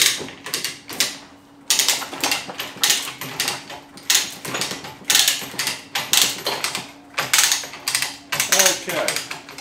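Ratcheting clicks and mechanical clatter from a lift raising a heavy Yamaha XV1000 Midnight Special motorcycle in a workshop, coming in repeated bursts of close, loud jacking strokes with short pauses between them.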